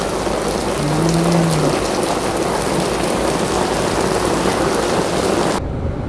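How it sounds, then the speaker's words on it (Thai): Heavy rain pours down in a dense, loud, unbroken hiss, then cuts off abruptly near the end. "ตัวฝนจะจ้าจ้าพี่น้องเอ้ยเฮงขนาดเลย"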